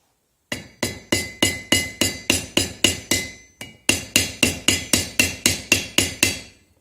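A hammer strikes a domed rivet on a pikeman's pot helmet, about twenty sharp, ringing metallic blows in a steady rhythm with one brief pause, close and loud.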